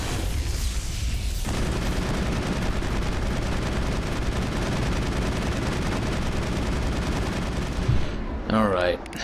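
Mass Effect combat, with continuous loud gunfire and booming shots across a firefight and sniper fire among them, ending in a short burst of voice near the end.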